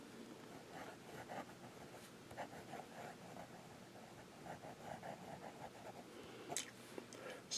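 Fountain pen with a medium nib and Montblanc Psychedelic Purple ink scratching across paper, soft, close, irregular strokes and small taps with faint background hiss, no talk.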